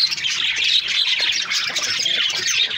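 A flock of budgerigars in a home aviary squawks and chirps noisily, a dense continuous bright chatter of many birds close by with no talking.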